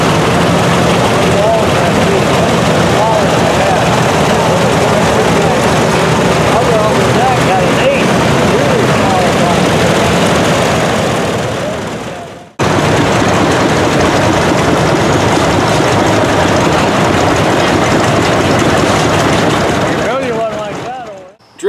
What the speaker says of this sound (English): contraption, large and small, was puffing and chugging and wheeling its way down Main Street